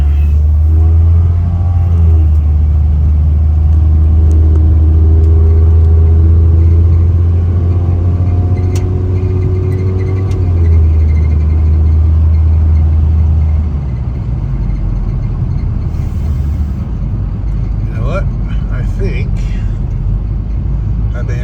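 A 1962 Rambler American cruises down a highway, its engine giving a steady, loud low rumble with road and wind noise throughout, easing slightly near the end, with a few faint knocks on top.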